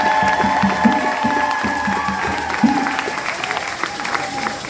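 An audience claps through a celebration of a priest's 20th anniversary of ordination, steady dense applause with a sustained tone running underneath.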